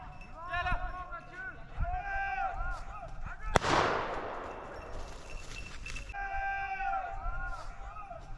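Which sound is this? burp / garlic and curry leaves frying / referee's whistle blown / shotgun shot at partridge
shotgun shot at partridge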